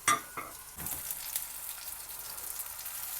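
A smash burger patty fries over low heat in a frying pan, a soft steady sizzle with a few sharp crackles and a brief clatter near the start, quiet and without talk.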